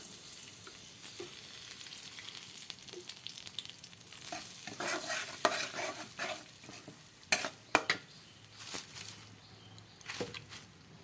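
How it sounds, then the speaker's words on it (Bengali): Onion and green chilli fry in mustard oil in a karahi, a soft steady sizzle punctuated by scattered scraping stirs and sharper clinks of the spoon, fairly quiet and close, with no voices. "যে কড়ার মধ্যে পেঁয়াজ আর কাঁচামরিচ দিয়ে দিয়েছি এখন সরিষার তেল দিয়ে দেবো"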